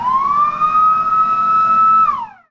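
A volunteer community fire engine's siren in Dnipropetrovsk region wails loud and close in one long steady tone, then drops in pitch and fades as the truck sets off to a stubble fire.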